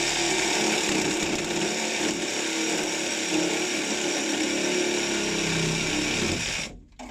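A power saw cuts through a part of a motorized valve, a loud, steady, gritty whine that runs almost unbroken and then cuts off near the end.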